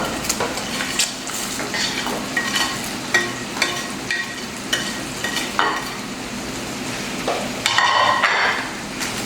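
Fried beef is tipped into Kerala-style pickle masala in a pan and stirred, with a utensil scraping and clinking against the metal in regular strokes over a low, steady sizzle.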